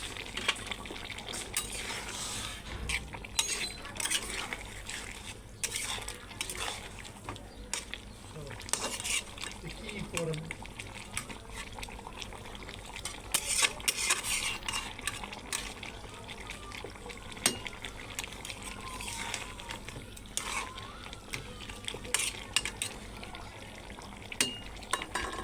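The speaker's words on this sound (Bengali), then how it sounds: "এখন আমি এর সাথে আলু দিয়ে ভালো করে কষাবো।" Layer chicken and potatoes are stirred in a pan for a Pakistani-style chicken kosha, with a steady wet sizzle under repeated utensil scrapes and clinks against the pan, close and fairly busy throughout.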